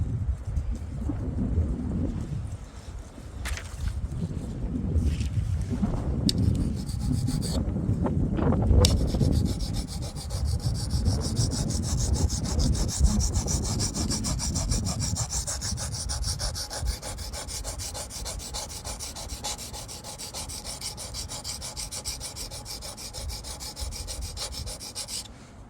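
A steel knife blade is rubbed back and forth across a Wästikivi sharpening stone outdoors on a windy day, giving a steady gritty scraping that runs nearly the whole time, with heavier handling bumps and wind rumble early on.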